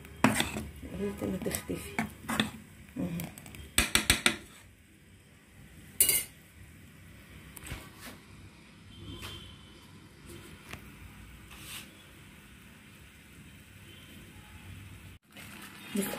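A spoon stirring a fenugreek mixture in a pot, scraping and clinking against the metal in irregular bursts with quieter stretches, fairly faint, with a brief voice speaking over it.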